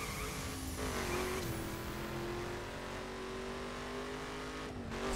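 Car engine in The Crew racing game droning steadily throughout, a sustained tonal hum with a slight pitch dip and rise, loud and continuous with no talk.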